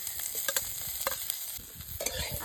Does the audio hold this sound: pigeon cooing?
no